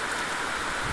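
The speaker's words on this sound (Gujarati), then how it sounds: "ચોથો દિવસ છે પણ વરસાદ ચાલુ જ છે" Steady rain on the fourth straight day of downpour in a farming village, a continuous, soft, even hiss of falling drops with no pauses and no voices.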